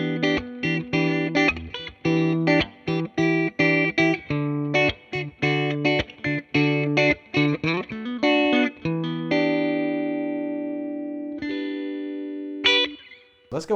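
An electric guitar plays through a Fender Blues Junior Limited Edition amp with an Eminence Cannabis Rex speaker and reverb added: a burst of choppy, loud strummed chords, then sustained notes ringing out and decaying, with a few final plucks.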